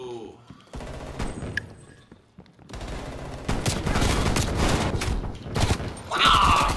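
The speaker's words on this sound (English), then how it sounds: "But the shotgun keeps running out of bullets!" Shotgun fire in Call of Duty Black Ops Cold War comes as a dense stretch of rapid loud blasts and gunfire bursts, with excited players talking over the shooting.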